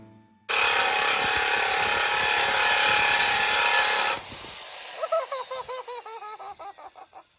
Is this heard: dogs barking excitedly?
no